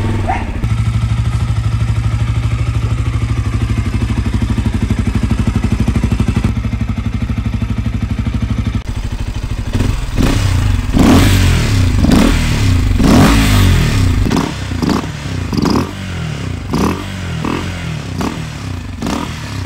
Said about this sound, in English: the audible difference in the induction noise it makes when you rev the engine